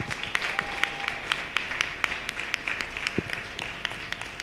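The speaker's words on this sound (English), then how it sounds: "So a round of applause for these lovely women." Applause from a student union election debate audience at Westminster for the candidates, clearly separate claps in an uneven patter, fairly light and moderately near, with no talk over it.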